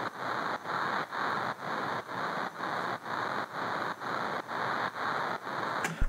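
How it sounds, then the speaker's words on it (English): A broad hiss of automated white noise in a dance track drop pulses in rapid regular bursts, chopped rhythmically about twice per second, loud and alone. "And here is a little bit of automation on this white noise"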